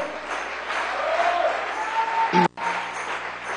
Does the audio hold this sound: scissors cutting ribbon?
no